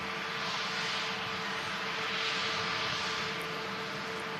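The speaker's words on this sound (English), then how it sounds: "The stunning Egypt Air A321 Neo. Yeah, just vacating Manchester again." An Egypt Air Airbus A321neo rolls off the runway at Manchester Airport, a steady, fairly distant jet engine roar with a faint whine, sounding alone.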